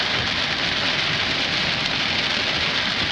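Heavy rain drumming steadily on a car while driving across Italy, a dense, continuous hiss of drops on the body and glass, close and even throughout, with no voices.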